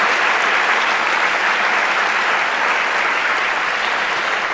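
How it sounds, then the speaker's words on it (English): A school audience at a Veterans Day ceremony gives a loud, sustained round of applause, dense clapping that stays even and full throughout without speech. "Can we give all of those people a huge, huge round of applause?"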